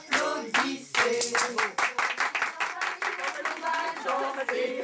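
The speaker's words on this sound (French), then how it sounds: "Mesdames, mesdames, applaudissez, messieurs, mesdames, applaudissez." An audience claps in a steady rhythm at a conference on medico-social institutions and creativity, the clapping loud and close, mixed with voices.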